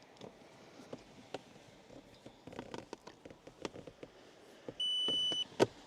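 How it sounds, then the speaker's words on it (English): A drone controller warning that its battery needs cooling or charging beeps, one sustained high-pitched tone near the end, after several seconds of faint scattered clicks and tapping. "I have to plug in this controller. It's beeping too much."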